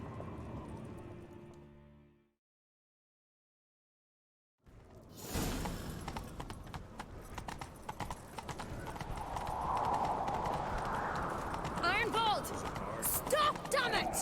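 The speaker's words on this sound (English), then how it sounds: "Grab a horse, we'll chase him down." Horses gallop with rapid clip-clop hoofbeats and occasional whinnies during a chase in The Witcher 3, rising after a silent gap into a busy, loud stretch of running hooves with game effects around them.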